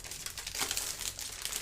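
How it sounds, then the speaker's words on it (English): Plastic bag packaging for an easel crinkles and rustles continuously up close, a dense, bright rustle with a few louder crackles, no talk over it. "Every piece that they send me is in a plastic bag"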